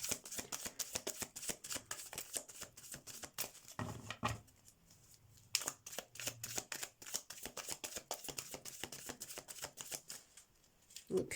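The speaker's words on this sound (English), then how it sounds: "Start shuffling the cards and see what they come out with." Tarot cards shuffled by hand during a reading, a close, quiet run of rapid riffling flutters and slaps in irregular bursts with a short pause midway, no one speaking.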